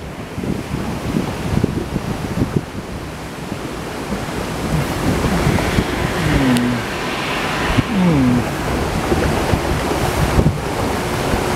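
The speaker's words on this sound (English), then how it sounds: "This is a zippy log ride." On a zippy amusement park log ride, wind roars across the microphone over rushing, splashing water, with brief faint voices and squeals rising above the steady loud wash.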